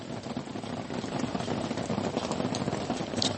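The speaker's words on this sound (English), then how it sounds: "Yeah, it's raining out here. I'm sure y'all can probably hear that." Steady rain falls outdoors on a Tuesday morning, a continuous soft patter and hiss of drops on surfaces at moderate level, with no voices over it.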